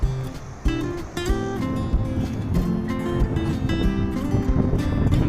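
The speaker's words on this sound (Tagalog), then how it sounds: "Ang lakas po ng hangin" Gusty wind buffets the microphone with heavy low rumbling while fishing, alongside clattering knocks and scattered tonal bursts, continuous and loud throughout.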